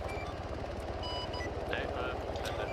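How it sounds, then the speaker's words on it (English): A military helicopter's engine and rotor run steadily in Arma 3, a continuous pulsing thrum from a close aircraft holding throughout, with faint radio-like tones and sounds mixed in. "Tell the fucking squad lead to get out of the damn chopper and come talk to Rube and turn the fucking engine off"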